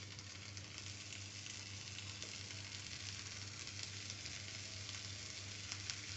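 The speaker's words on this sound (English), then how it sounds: "I have not turned off the gas. I am just putting a coriander." Coriander sizzles in a pan over a gas flame, a faint steady frying hiss with occasional tiny crackles, no talking.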